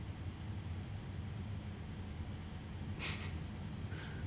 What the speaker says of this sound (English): Horrible engine sound.